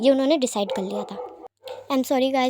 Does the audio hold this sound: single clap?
no